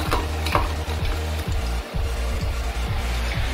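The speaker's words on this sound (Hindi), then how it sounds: "राई डालने के बाद थोड़ा तड़का उड़ता है तेल आंच पे" Mustard seeds sizzle and crackle steadily as they pop in hot oil, continuous and close, with occasional soft scraping or stirring sounds.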